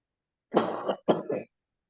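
One person coughs twice in close succession, a harsh, throaty burst followed by a shorter one, near the microphone against silence.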